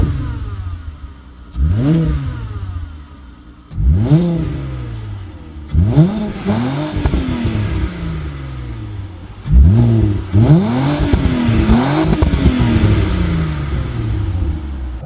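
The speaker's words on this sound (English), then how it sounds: "So I'll give you guys a cold start." A VW Golf Mk4 VR6 with a 4Motion drivetrain and a straight-pipe Milltek exhaust cold-starts and revs hard. It gives about six loud, close rising and falling revs with a clattery, throaty idle between them and no talking.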